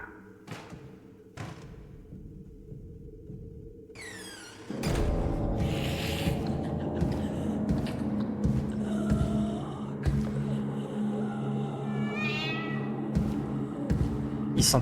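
Cat meows in the FNAF: Into The Pit video game, a few short cries rising out of low droning game ambience, with thuds and a busier background after the first few seconds.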